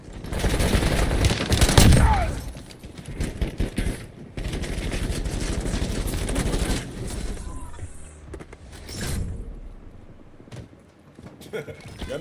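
Rapid gunfire from a shooting video game crackles in dense bursts for several seconds, loud and continuous at first, then thins into scattered shots and fading game noise.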